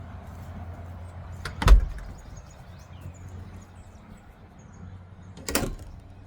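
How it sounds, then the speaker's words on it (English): A door is shut and locked at a home craft-room building, giving two distinct knocks or clunks about four seconds apart over a low, steady background hum, with no talking. "I gotta lock this door."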